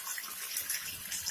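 A household tap runs water through old, rusting pipes, with a steady close-up splashing hiss throughout the short stretch and no talking.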